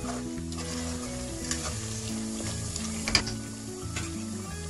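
Mutton korma frying in a pressure cooker, oil sizzling loudly and steadily while a spoon stirs and scrapes the metal pot, with a sharp clank near the middle.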